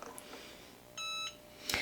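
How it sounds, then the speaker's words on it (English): A heat press gives a single short electronic beep, clear and steady, against a quiet room with faint handling noises. "when it beeps, I will just move this down to the next part and press again"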